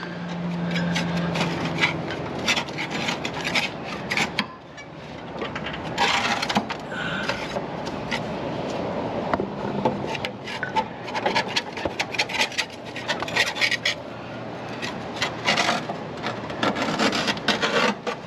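Scraping underneath the deck of a John Deere L120 riding mower, a close, continuous rasping and grinding of a tool against caked debris in repeated strokes, with short pauses and no talking.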